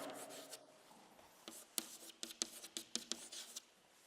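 Handwriting during a biochemistry lecture: a faint, close run of scratchy pen or chalk strokes in short irregular bursts, with the room otherwise quiet.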